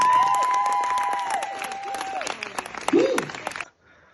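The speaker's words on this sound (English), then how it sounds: "give you a big round of applause" An audience at a youth talk or podcast event gives a round of applause mixed with cheers and shouts, fairly loud at first and then thinning before cutting off abruptly near the end.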